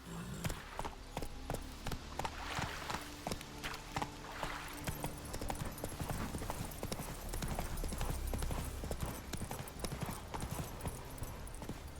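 Hooves of Roach, the horse in The Witcher 3, clip-clop in a quick, steady trotting rhythm throughout, close and even, with wind-like game ambience underneath.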